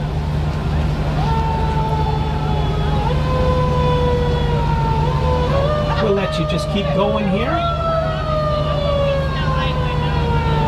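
A loud fire truck siren wails with rising and falling tones over a rumbling engine at a Christmas parade, a horn blaring midway, while someone talks nearby.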